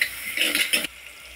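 Tomato and onion frying together in a pan are stirred with a utensil, giving a brief burst of scraping, clinking and sizzle up close that stops abruptly.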